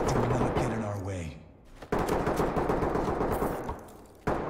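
Gunfire in the tactical shooter Ready or Not: sustained bursts of shots crackle loudly across the scene, with a sharp single crack near the end and a voice talking briefly at the start.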